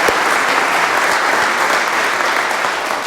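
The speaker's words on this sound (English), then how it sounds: "let's have another round of applause for all of our presenters today" Sustained, loud applause from a demo day audience for the presenters, a dense steady wash of clapping filling the whole stretch without a break.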